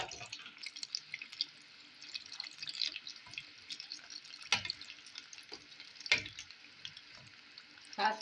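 Samosa rolls filled with potato frying in hot oil, a steady broad crackle and sizzle close by, with sharper pops and splashes as rolls are added and turned.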